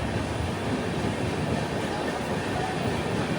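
Coromandel Express sleeper train running between Ongole and Vijayawada, a loud, steady rolling rumble with broad rattling noise from inside the coach, continuous throughout.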